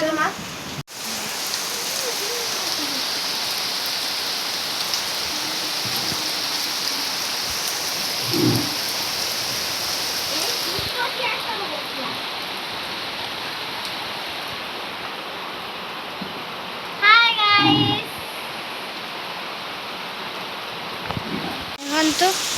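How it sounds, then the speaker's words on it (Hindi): Steady rain pours down in a continuous wash of hiss, with a few brief voices and some chirping cutting through near the end. "वर्षा स्टार्ट हो गला केते पानी देखो"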